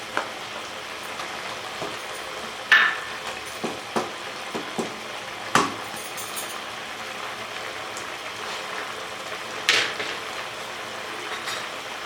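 Green chilies hit keema frying in a pan, giving a faint continuous sizzle with scattered taps and scrapes of stirring spaced through it, no talking heard.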